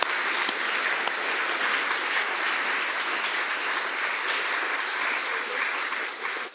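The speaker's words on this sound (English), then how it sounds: "So one last round of applause for everybody." A final round of applause from the audience at an International Women's Day evening event, dense and steady clapping sustained for several seconds with no talk.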